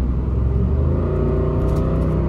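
A deep, rumbling V8 exhaust on a Ram 1500 pickup with universal mufflers and resonators deleted idles and burbles steadily up close, a low throaty drone with a slight rasp.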